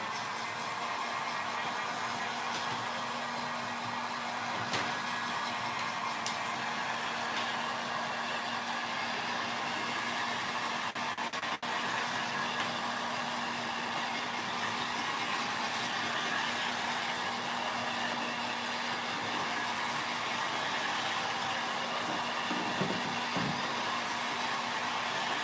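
Hair dryer blowing steadily on a freshly painted coat, a constant close whooshing hum with a low tonal drone that runs unbroken the whole time, no talk.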